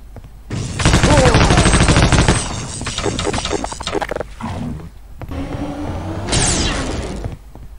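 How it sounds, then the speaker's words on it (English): A video game machine gun fires a loud, sustained automatic burst, then stutters through shorter volleys and mechanical clatter. After a brief pause a final louder rush of fire and impacts follows, with no talking. "I'm gonna go with the machine gun."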